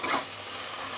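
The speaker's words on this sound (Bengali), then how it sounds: "এখন কড়াইতে এগুলো একটু নেড়ে নিচ্ছি" Okra and chillies are stirred in a wok, giving a soft, steady sizzle with faint scraping for about a second.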